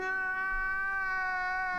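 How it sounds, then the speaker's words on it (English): A cat lets out one long, steady, drawn-out cry, loud and close, holding its pitch throughout with no talking over it. "Cat reached the crying stage early"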